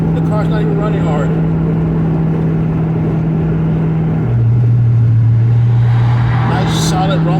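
Steady, loud car engine rumble at about 70 on a test drive, with a low droning note that drops briefly in pitch mid-clip as if shifting, and a voice talking over it.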